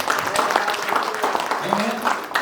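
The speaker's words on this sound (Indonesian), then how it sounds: "Puji Tuhan, tepuk tangan bagi Tuhan." Congregation clapping in a church service, a steady dense patter of many hands throughout with voices mixed in.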